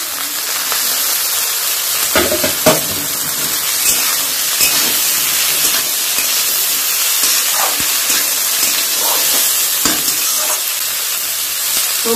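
Peas and mixed vegetables sizzle and hiss in hot oil in a wok, a steady loud frying crackle with occasional stirring scrapes and bursts.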